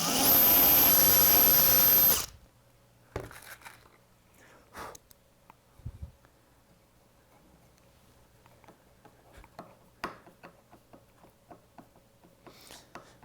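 Power drill boring holes for a bumper bracket, a loud dense whir for about two seconds that stops abruptly, followed by quiet scattered clicks and handling knocks nearby.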